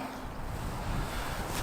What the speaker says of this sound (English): a bit windy today, apologise for that